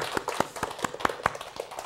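A small church congregation clapping at a Thanksgiving service, a sparse and faint patter of separate claps at an irregular rhythm.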